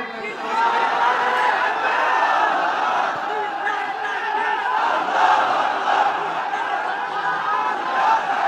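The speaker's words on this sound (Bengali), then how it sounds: "তাকবীর দেন তো একজন আওয়াজ করে" A large gathered crowd at an Islamic lecture hall shouts the takbir together, a loud, sustained collective roar that fills the whole stretch without pause.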